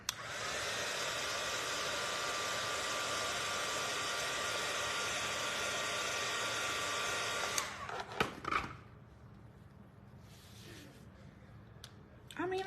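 A hair dryer blows steadily and loudly while drying yellow paint on a small round wooden Easter craft sign, then switches off, leaving faint handling noises.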